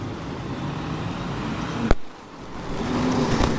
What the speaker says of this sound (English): We're just on a busy street